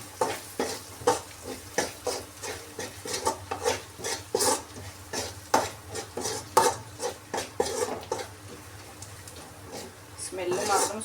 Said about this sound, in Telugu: సో వేసుకున్నాక ఒకసారి కలపండి.